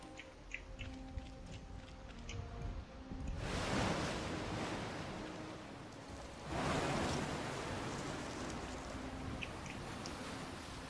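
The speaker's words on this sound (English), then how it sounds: "These waves sound a bit loud again." Ocean surf rolls in the EverQuest II video game, two loud broad wave swells crashing a few seconds apart over a steady hiss of water, with no talk.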